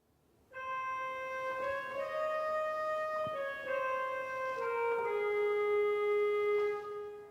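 A pipe organ's oboe stop paired with a soft 8-foot lieblich gedacht plays a slow, sustained melody, reedy tones held over gentle flute-like support, quiet and alone, each note gliding into the next.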